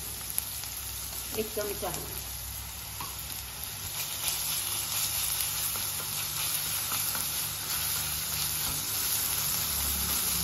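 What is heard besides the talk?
ginger garlic paste frying with onions in a pan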